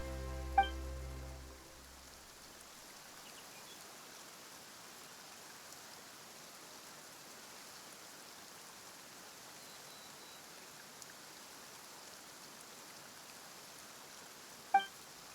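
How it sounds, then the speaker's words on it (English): Rain falls steadily in a video game scene, a soft continuous hiss that goes on throughout. A brief tonal sound fades at the start, and faint clicks show at the beginning and near the end. "Why is it raining all of a sudden?"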